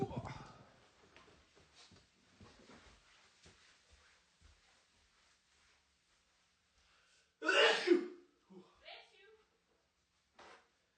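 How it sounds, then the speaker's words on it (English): A short, sharp nasal blast rings out after some quiet rustling and faint murmurs, followed by a few softer sniffs and snorts. "I need to blow my nose"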